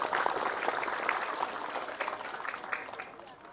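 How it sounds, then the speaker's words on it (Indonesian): A crowd at a gathering gives sustained applause for its leaders, with dense clapping that stays fairly steady and then slowly fades toward the end. "Kita beri aplaus untuk semua pimpinan kita"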